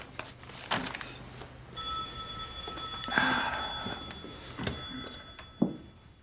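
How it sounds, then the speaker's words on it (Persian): A faint electronic ring tone sounds repeatedly in the background, steady tonal beeps over quiet room noise with a few soft knocks. "تلفن داره زنگ میخوره؟"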